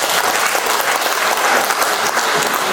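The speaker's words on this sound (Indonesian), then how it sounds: "Tepuk tangan untuk saya." A packed meeting hall at the 2023 KBI national working meeting erupts in dense, loud applause, sustained and even throughout with no voices over it.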